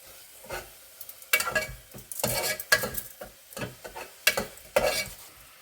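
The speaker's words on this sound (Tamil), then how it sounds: "இப்போ நம்ம இதில் சிக்கனை போட்டுக்கலாம்." Chicken frying in a masala in a pan for a chicken fry, with a steady sizzle broken by repeated scraping stirs of a spoon against the pan, close and fairly loud, no talk.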